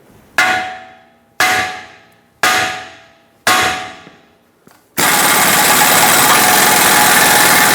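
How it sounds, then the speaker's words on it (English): Hammer blows on a stuck ball joint of a Ford E-350: four sharp, loud metallic strikes about a second apart, each ringing and decaying, then a brief tap and a sudden steady loud noise. "try to give it a few taps with a hammer right over here"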